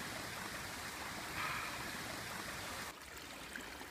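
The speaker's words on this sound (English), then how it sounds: "the little waterfall coming down from the summit" A small mountain stream tumbles down as a little waterfall from the summit of Fan Fawr, a steady, close rushing and splashing of water that continues unbroken throughout, with no voices.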